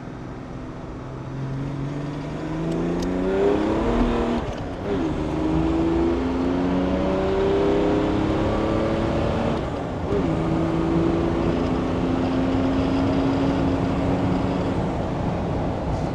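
A tuned M57 engine in a Land Rover Defender revs on a dyno, a loud sustained drone rising and falling in pitch through repeated sweeps, with no talk over it.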